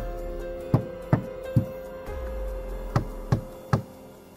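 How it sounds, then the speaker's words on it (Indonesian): Someone knocks on a door while a couple sits in a living room: three sharp raps, a short pause, then three more, loud and close. "tiba-tiba ada suara ketukan pintu"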